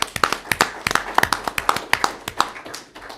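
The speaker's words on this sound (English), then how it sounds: "if we could give a round of applause to everyone that works law enforcement and in the schools" A small crowd at a county commission meeting claps for law enforcement and school workers, with scattered, distinct individual claps in an uneven patter, fairly quiet and brief, with no talking over it.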